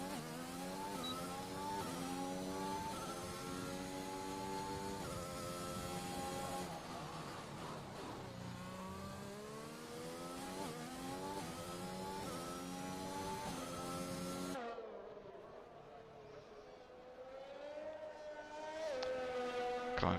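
Steady, high-revving Aston Martin race car engine on a flying lap in a racing game, rising and falling with gear changes, loud and continuous, with a sudden drop in tone near the end before it builds again.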